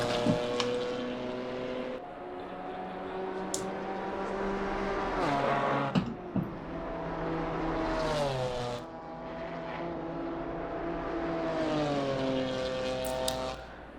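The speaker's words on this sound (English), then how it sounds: "Up the hill and now through the Kemmel Straight goes Lawrence Thomas" GT4 race cars at Spa-Francorchamps roar up the hill along the Kemmel Straight, engines droning loud and steady with rising and falling pitch as they pass and change gear.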